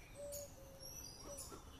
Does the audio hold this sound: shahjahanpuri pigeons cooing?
yes